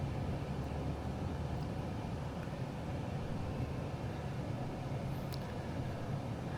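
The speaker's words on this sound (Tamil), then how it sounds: "இந்த டிராஃபிக் கொஞ்சம் கம்மியாக இருக்குது." Street traffic in Puducherry heard as a steady broadband rumble of passing vehicles and engines, moderately loud and continuous, with no talk.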